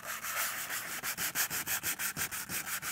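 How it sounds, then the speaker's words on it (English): Sandpaper is rubbed over a fresco surface to distress the image, making quick rhythmic back-and-forth rasping strokes, about five per second, close and steady with no talking. "Usually I take a new piece of sandpaper and then wearing off some specific area, targeting some area."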